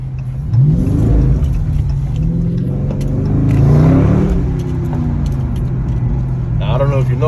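A car on new Nitto NT555 tires revs and accelerates with wheelspin, a steady mid-pitched roar rising and falling throughout, while a person talks over it.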